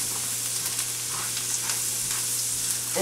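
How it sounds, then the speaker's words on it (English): Vegetables sauté in a butter mixture in a pan, producing a constant even sizzle with faint stirring movements and a steady low hum underneath. "we're going to saute this up."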